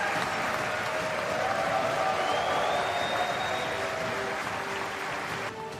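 Applause fills the US Congress during Modi's address: a thick, continuous wash of many hands clapping in a large hall, holding steady before dropping off abruptly at the end.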